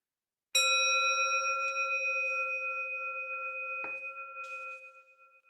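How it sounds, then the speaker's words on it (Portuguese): A small meditation bell is struck once, its clear ringing tone sustaining and slowly fading over several seconds in an otherwise quiet room, with a faint second touch partway through. "ao ouvir o meu sininho, nós vamos iniciar"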